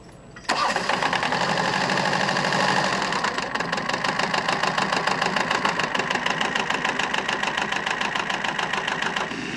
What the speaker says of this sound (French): L'ISCO, c'est une faucheuse tirée par une paire de chevaux et actionnée par un moteur auxiliaire.